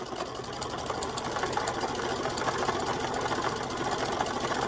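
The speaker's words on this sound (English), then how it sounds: "I've got one of those sewing machines where you can push the button instead of using a foot pedal" Push-button sewing machine, run without a foot pedal, stitching steadily at speed with a continuous close mechanical whir and rapid needle rhythm, alone with no talk.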